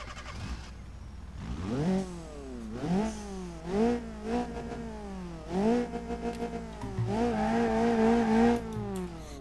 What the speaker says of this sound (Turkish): Şöyle bir çalıştıralım mesela.